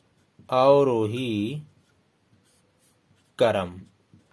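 A marker writing numbers on a classroom board squeaks in two separate strokes, a longer wavering one and then a shorter one, with quiet gaps around them.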